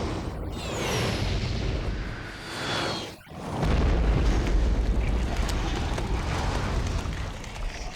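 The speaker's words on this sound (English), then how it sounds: "Now to fire the nuclear helicopter missiles." Nuclear helicopter missiles detonate in the video game Parasite Eve, a sustained roaring rumble of explosions with a sweeping whoosh early on, a brief dip, then a heavier, deeper blast that keeps rolling loudly to the end.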